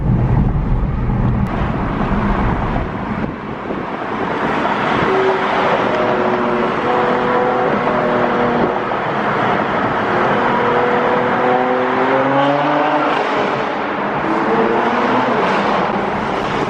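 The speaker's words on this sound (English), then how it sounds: "I'm gonna make sure I get some tunnel exhaust for you guys" A 2018 BMW M4 exhaust booms and echoes inside a tunnel, close and loud throughout, with rising engine tones as it revs and pulls through the gears.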